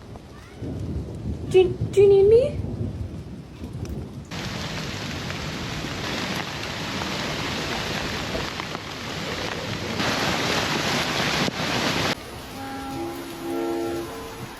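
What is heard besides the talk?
thunderstorm with thunder and rain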